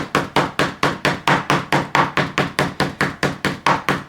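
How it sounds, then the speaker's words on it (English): A metal tool strikes a small miniature haunted-house prop again and again to add dents and scratches, about twenty sharp, close, evenly spaced taps in a steady brisk rhythm with no talking. "I'm going to go through a whole bunch more of these and just make dents and scrapes and scratches"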